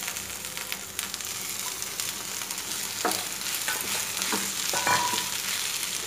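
Fried okra stirred into masala in a pan for masala bhindi, a close steady sizzle with spoon scrapes and stirring clatter, no voices.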